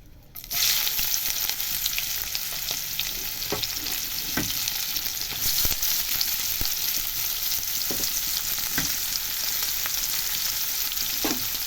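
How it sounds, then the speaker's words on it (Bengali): Onions tipped into a pan with two small torn dried chillies, the sizzle bursting up at once and then frying steadily with scattered spatula clicks and scrapes, close and unaccompanied by speech. "এইবার দিয়ে দিই পেঁয়াজগুলি"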